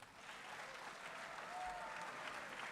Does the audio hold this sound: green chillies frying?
no